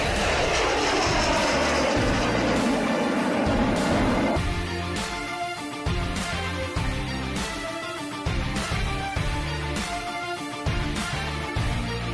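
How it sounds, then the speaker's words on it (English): A Kızılelma jet fighter powered by a Ukrainian Motor Sich engine flies on its first flight with a loud, roaring engine that sweeps past, after which it cuts into rhythmic background music. "Kizilema jet fighter with the Ukrainian engine from Motor Siege took its first flight today"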